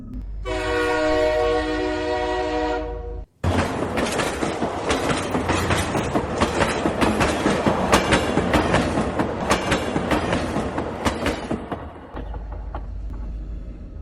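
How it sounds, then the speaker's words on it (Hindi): A train on a rail line blows a long, loud horn, cuts briefly, then rumbles past without stopping in a dense rolling clatter of wheels that fades into low rumble at the end. "रेलगाड़ी ने हॉर्न दिया।"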